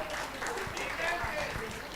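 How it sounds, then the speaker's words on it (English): An audience applauds keynote speakers at a global assembly, a quiet, steady patter of many hands clapping from a distance for about two seconds. "Let's give them one more round of applause."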